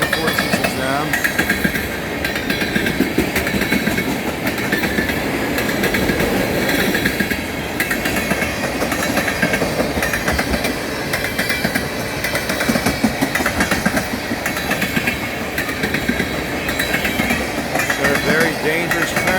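An empty CN crude oil freight train of tank cars runs northbound behind CN AC44C6M, C44-9W and SD70M-2 locomotives. Loud, rhythmic clickety-clack from the wheels continues throughout, with engine rumble underneath.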